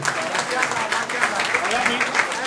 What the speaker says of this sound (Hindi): ये सबसे ज्यादा हकदार है तालियों के